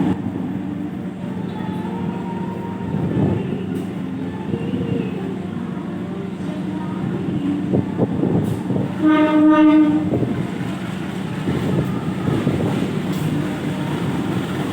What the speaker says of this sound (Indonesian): Wow, ditarik lokomotif Hongeng ya teman-teman, CC203.